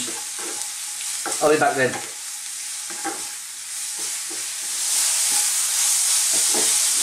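Mushrooms fry in a pan with a steady sizzle that grows louder and brighter toward the end, with stirring clatter and a brief spoken line early on.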